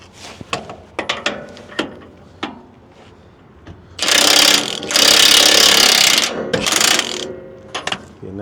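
A Milwaukee impact wrench hammering a socket on a semi truck axle: a few short clicks and knocks, then two long, loud, rattling bursts of impacting close by, followed by another brief burst.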